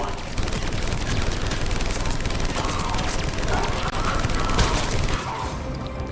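Turret gunfire in Mass Effect 3, set on Omega, rattles in a dense, unbroken barrage with crashing impacts, loud and close throughout and thinning out near the end.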